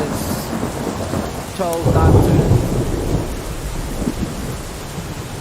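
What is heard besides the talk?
loud rain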